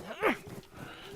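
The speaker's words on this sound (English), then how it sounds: "I hear a pig." Pig in the survival video game DayZ on the Deerisle map, one short nasal squeal-grunt rising and falling, fairly faint, with a quiet game background.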